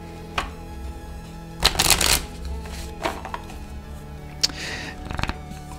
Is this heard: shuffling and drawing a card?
yes